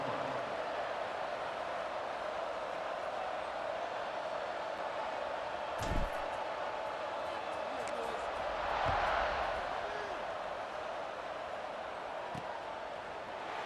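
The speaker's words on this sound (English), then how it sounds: "They're set to kick it off, and this crowd now ready to get behind them." Stadium crowd noise in the video game EA Sports College Football 26 before a kickoff, a steady broad roar with a brief swell, under a play-by-play announcer's voice.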